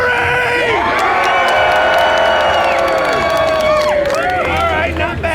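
A loud crowd at a Renaissance faire joust cheers, whoops and shouts, with excited voices of adults and children blending into a steady roar for the full stretch.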